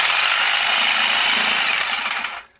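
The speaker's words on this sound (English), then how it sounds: "So we're going with the trusty old Sawzall because it always works." A Sawzall reciprocating saw cutting wood, a loud close continuous buzzing rasp that holds steady and then stops abruptly as the cut ends.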